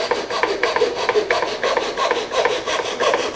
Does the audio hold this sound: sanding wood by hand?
yes